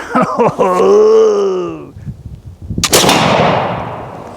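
A drawn-out groaning voice is followed by one loud, sharp report from a black powder gun firing an unpatched .490 round ball, close by and ringing off briefly.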